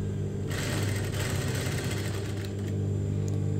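A sewing machine stitches cotton corduroy for a dungaree maxi dress, its motor giving a steady, close whir that strengthens after a brief quieter start and runs on without a break.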